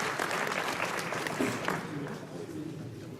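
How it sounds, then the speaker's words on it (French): An audience at an enduro motorcycle awards ceremony applauds the Open category winner, producing dense, steady clapping that fades slightly over a few seconds, with an announcer's voice mixed in. "vous pouvez applaudir le vainqueur de cette catégorie Open"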